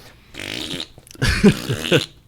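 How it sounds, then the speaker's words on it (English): A Tesla Model S/X fart mode novelty sound plays through the car's speakers as two drawn-out, squelchy synthetic farts, each swelling in loudness and trailing off, with no talk over them. "You have two ways you can activate fart mode."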